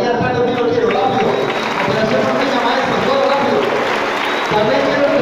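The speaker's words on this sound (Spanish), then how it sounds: "Aplauso para nuestros maestros" A school audience at a telesecundaria claps for its teachers amid crowd noise and shuffling, with a voice talking over the steady, moderately loud applause.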